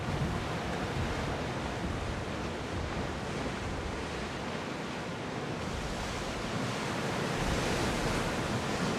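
Wind and rolling sea waves around a rowed ship in Assassin's Creed Odyssey, a continuous loud broadband rush of surf and gusts that swells and eases across the whole stretch with no voices.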